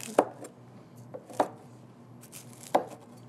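An onion is chopped on a board in three sharp, evenly spaced knife strikes, with a faint tap between them, close and clear against a quiet kitchen background.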